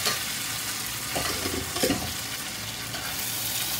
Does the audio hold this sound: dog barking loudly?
no